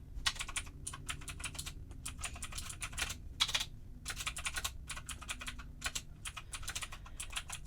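Steady clacking of fingers typing on a computer keyboard, close and moderately quiet, in quick bursts separated by brief pauses.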